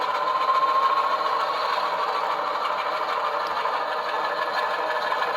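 A USA Trains S4 model locomotive's sound decoder plays a steady, continuous motor hum with a buzzing, whirring quality, running evenly throughout at moderate level, with no pauses or talk.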